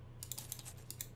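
Cards from an Arkham Horror board game are shuffled close up, giving a quick run of soft riffling clicks over a low background hum.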